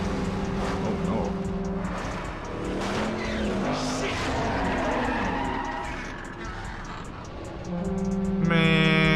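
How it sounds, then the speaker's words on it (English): A big-block car engine revs loudly in the Saints Row video game with tire noise and skidding among other game sounds, running continuously across the scene and rising at the end. "that car sound nasty"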